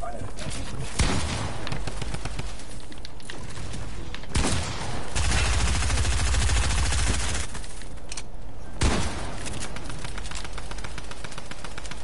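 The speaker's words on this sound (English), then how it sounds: "the drum gun is so bad" A drum gun in a video game fires long rapid bursts of gunfire, loud and close, broken by short pauses and a few heavier booms, with players talking over it.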